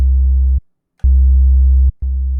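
A synthesized 808 bass built from detuned oscillators in FL Studio plays three loud, sustained low notes with a slightly raspy, distorted buzz, separated by brief silences.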